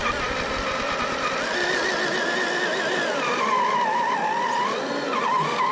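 RC truck on Pitbull tyres spinning on exposed rock, a continuous whining motor and scrabbling tyre noise rising and falling in pitch for several seconds, close and loud with no talk.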